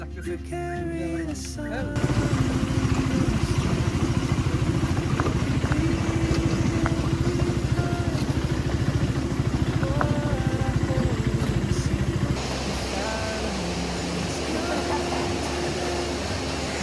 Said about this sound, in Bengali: হ্যাঁ, বাইক গাড়ি নামবে।